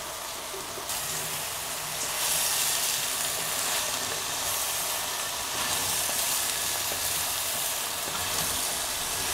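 Courgette, aubergine and other vegetables sizzle steadily in a hot pan for an Indian curry, a dense, continuous frying hiss that holds near and loud throughout with no talking.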